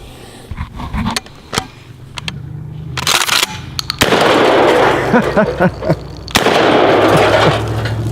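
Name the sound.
DP-12 shotgun firing at an ammo can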